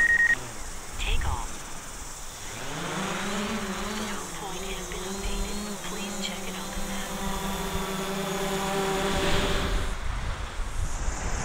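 A camera drone buzzes in flight outdoors, its whining propeller drone rising in pitch as it takes off and hovering steadily and fairly close, with wind noise on the microphone.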